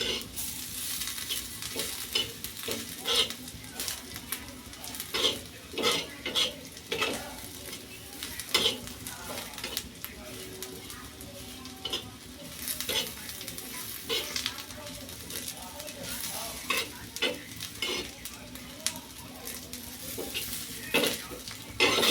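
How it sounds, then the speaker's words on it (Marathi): Grated dry coconut roasting with masala in a pan, a low sizzle under repeated scraping and clinking of a spatula against the metal pan, close and moderately loud, with occasional talking. "खोबरं किस पण छान प्रकाराने भाजून घ्यायचं आहे."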